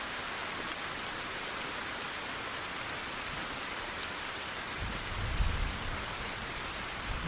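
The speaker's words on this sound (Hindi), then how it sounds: "बारिश तो बहुत जोर से आ रहा है" Heavy rain pours steadily in a rural village, a dense continuous hiss of drops on surfaces with a low rumble swelling briefly near the end, no voices.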